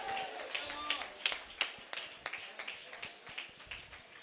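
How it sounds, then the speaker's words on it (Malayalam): A church congregation claps during a sermon, giving a run of sharp, fairly close hand claps in an uneven rhythm, with a voice heard faintly among them. "ഒന്ന് കൈയടിക്കുന്നത്."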